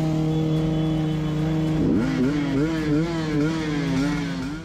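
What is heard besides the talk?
motorcycle engine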